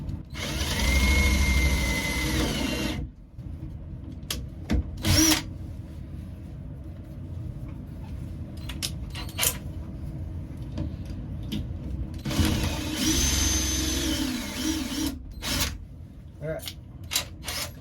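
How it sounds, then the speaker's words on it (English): A power drill pre-drilling a hole for an Airstream shower door whirs steadily for a few seconds, stops, then runs again in a second burst, with quieter clicks and handling noise between. "So I'm going to pre-drill a hole"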